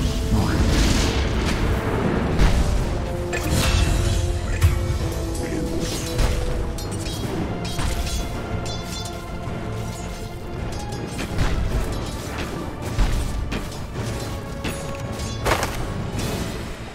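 A tower under attack in Dota 2, with continuous heavy thuds, crashes and booming impacts layered over game music, steady and loud throughout with occasional stronger hits.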